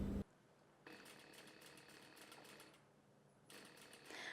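A sewing machine stitches a seam in a cambric lining, running in two rapid rattling bursts separated by a short pause, close and fairly quiet.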